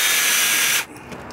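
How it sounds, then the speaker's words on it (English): A 3/16 inch drill bit bores out a punched mark in metal on a Jeep JK tailgate, a short high whirring grind that stops abruptly after under a second, leaving quiet. "Using a 3/16 inch drill bit,"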